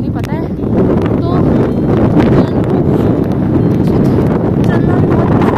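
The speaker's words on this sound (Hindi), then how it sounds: "यहाँ पर बहुत तेज हवा चल रही है, बहुत ज़्यादा स्नो चल रही है" Strong wind gusts across a snowy hillside in Poland during heavy snowfall, a loud, constant blustery roar buffeting the microphone throughout.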